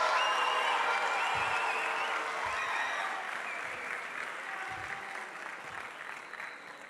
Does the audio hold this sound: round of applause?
yes